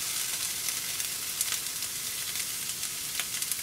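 Bacon for pasta carbonara sizzles in a pan with a close, continuous crackling hiss and small pops scattered through it, and nobody speaks.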